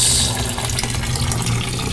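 Water pours steadily into containers of guppy and blue dragon fry at a guppy farm, giving a loud, continuous splashing rush with no talk over it.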